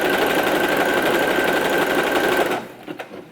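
A sewing machine stitches elastic onto a one-shoulder swimsuit, running as a loud, steady, rapid mechanical whir close up for over two seconds before it stops, followed by a few light clicks.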